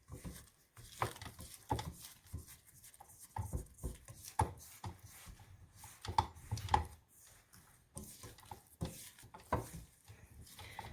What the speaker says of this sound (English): I'm going to beat it for a little longer just to ensure that there's no lumps in the dough